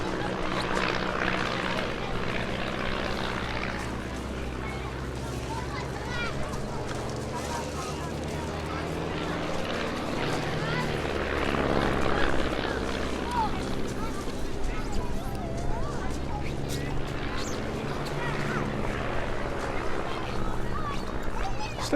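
A Stampe biplane flying aerobatics at the Eastbourne Airshow, its propeller engine droning steadily from a distance and rising and falling in pitch as it rolls, with an announcer talking over it throughout.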